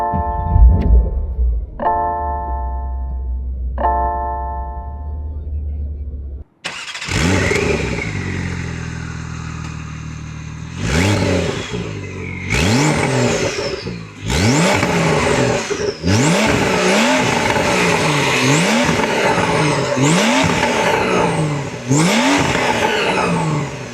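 Porsche 911 Carrera T driven hard, its engine idling low, then revving loudly through repeated climbing pulls with sharp gear changes between them, close and dominant.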